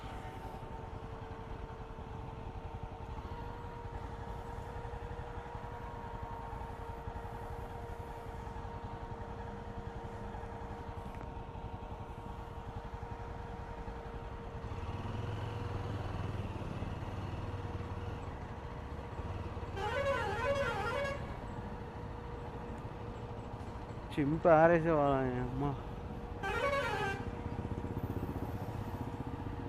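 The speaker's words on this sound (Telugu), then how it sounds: "ఏం ట్రాఫిక్ రా భయ్." Heavy highway traffic on a solo motorcycle ride from Delhi toward Jammu, a steady low engine and road hum with a few separate bursts of vehicle horns honking, the loudest near the end, and a brief spoken remark.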